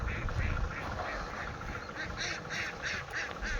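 Ducks foraging in a rice paddy quack repeatedly in a quick, rhythmic series of calls, moderately close, over a rough outdoor background with no talking.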